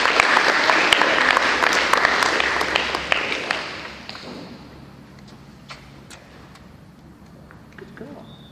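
School assembly audience of children applauding, a dense burst of many hands clapping that fades out after about four seconds into quiet room noise and scattered movement, with a teacher's voice briefly heard.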